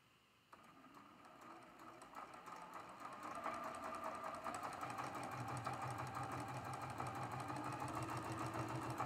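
A sewing machine runs continuously while piecing quilt half-square triangles with a quarter-inch seam for a fan dance block, a steady rapid mechanical whir that starts abruptly and grows slightly louder, heard close and alone.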